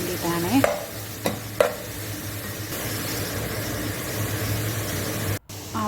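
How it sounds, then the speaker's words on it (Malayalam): Crushed ginger, garlic, green chillies and onion sauté in a pan for a country chicken curry, giving a continuous sizzle under steady stirring. A few sharp spoon knocks land early, and the sound cuts out briefly near the end, with no speech. "അതിലേക്ക് ഇഞ്ചി വെളുത്തുള്ളി ചതച്ചത്, 2 പച്ചമുളക് എന്നിവ ചേർത്ത് വഴറ്റാം."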